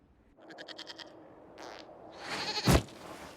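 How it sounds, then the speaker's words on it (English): In Dragon Age: Inquisition, a goat gives a rapid, wavering bleat, then shorter cries and a rising, noisy blare ending in a sharp thump, all fairly close with no talk. "we discovered this man attacking the building with a goat"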